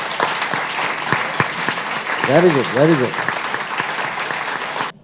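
An audience at a Tamil-language speech by a travel company's founder breaks into loud sustained clapping that fills the room, while someone speaks briefly over the applause before it fades out abruptly.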